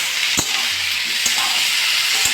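Onions and potatoes fry in a pan with a steady, close sizzle throughout, broken by a few soft stirring knocks.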